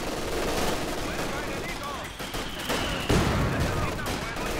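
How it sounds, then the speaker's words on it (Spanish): Sustained machine-gun fire from the World War II strategy game Company of Heroes 2, dense and continuous with scattered shots and explosions layered through a busy battle soundscape. "La metralladora la tengo ocupada disparando de frente."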